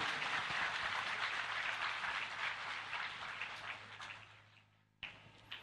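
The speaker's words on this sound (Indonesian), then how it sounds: "Tepuk tangan untuk Bante Hendrik." Audience applause welcoming Bante Hendrik at a Maulid Nabi and interfaith dialogue evening, steady dense clapping that fades around four seconds, then a brief final burst.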